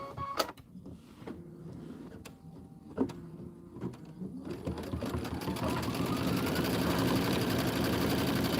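A quilting machine stitches an autumn border, starting with a few sharp knocks and sparse clicks, then settling after a few seconds into a steady, fairly loud whirring hum that builds and runs continuously to the end.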